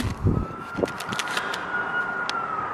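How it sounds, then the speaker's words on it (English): A faint, steady ambulance siren drifts in the distance beneath nearby clatter and traffic noise. "wait for the ambulance"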